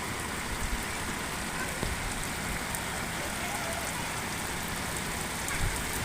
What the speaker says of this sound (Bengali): আসলে প্রচুর বৃষ্টি হচ্ছে কদিন যাবত